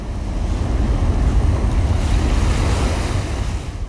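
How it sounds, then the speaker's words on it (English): Ocean surf rolls and crashes continuously at close range, a loud, dense roar of breaking waves mixed with buffeting wind noise on the microphone. "off where the waves roll free. The sparkling water rises, then crashes to the sea."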